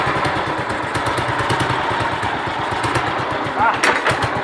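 A BSA M20 motorcycle single-cylinder engine runs with a steady, loud, thumping pulse, close by and continuous, with a brief rise in revs near the end.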